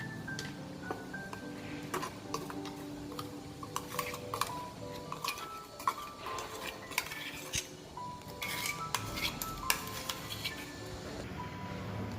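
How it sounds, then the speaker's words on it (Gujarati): Green chutney is scraped out of a mixer jar into a bowl, with a spoon scraping and clinking against metal in irregular taps and scrapes, close but fairly quiet. "હવે ચટણીને આપણે એક બાઉલમાં કાઢી લઈશું।"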